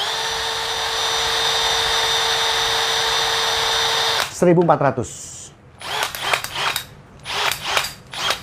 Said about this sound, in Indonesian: ini kalau bor bertorsi besar kayak gini guys bunyinya ceklok ceklok ceklok